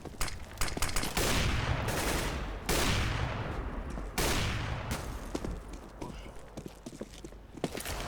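A decoy grenade in the game CS:GO mimics gunfire: loud, close volleys of rapid shots arrive in several separate bursts, with sharper single cracks and clatter scattered between them.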